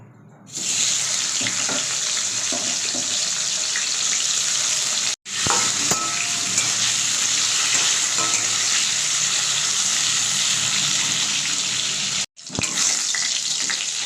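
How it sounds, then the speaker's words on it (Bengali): Potatoes fry in leftover fish-frying oil in a wok, giving a loud, steady sizzle that runs almost without a break, with a couple of short cuts and some stirring and clinking, and no talk. "এবার আলুগুলো এই তেলের মধ্যে লাল লাল করে ভেজে নেব।"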